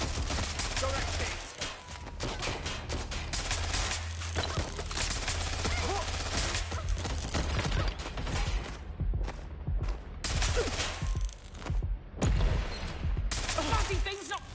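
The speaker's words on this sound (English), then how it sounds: "Gunfire!" Rapid bursts of gunfire fill a Watch Dogs Legion firefight, dense volleys and scattered single shots rattling almost nonstop, with occasional character voices in between.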